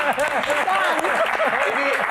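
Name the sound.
audience applause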